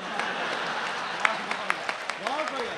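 An audience at a live comedy show claps in a broad, steady wash of applause with a few sharper claps standing out, while a voice rises over the end.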